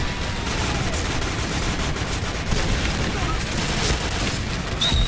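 Sustained heavy automatic fire from a video game gun with strong recoil, a loud dense barrage of rapid shots with booming low end, unbroken for several seconds.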